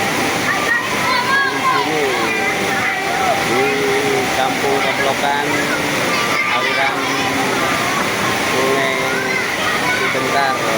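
Curug Leuwi Tonjong waterfall roaring steadily and loudly close by, a constant rushing wash of water with voices talking over it.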